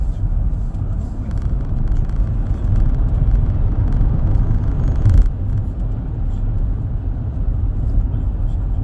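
A taxi cruises on a highway posted at 100 km/h, passing at about 110 to 115 km/h on the way to Incheon Airport Terminal 2. Heard from inside, there is a loud, continuous low road rumble with engine drone.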